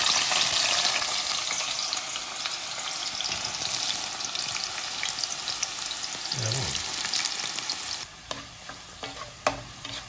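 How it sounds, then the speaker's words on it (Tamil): Sliced snake gourd fries steadily in a pan with a loud, continuous sizzle, joined by a few stirring scrapes and clinks toward the end. "வெட்டி வச்ச புடலங்காயை பொரிக்க போகிறோம்."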